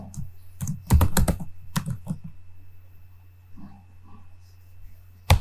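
Quick bursts of keystrokes on a computer keyboard as a file name is typed, a dense rapid cluster near the start followed by sparser, softer taps and a final press, close and alone over faint electrical hum.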